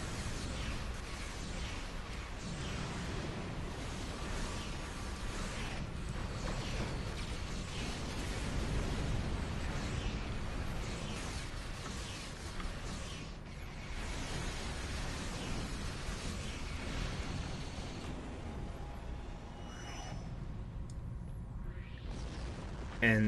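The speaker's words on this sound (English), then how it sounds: "And they are using Romulan explosions, which is also interesting." Romulan ship explosions in the space combat of the video game Star Trek Online form a dense, continuous rumble of booms and bursts, loud and sustained, with no talk over them.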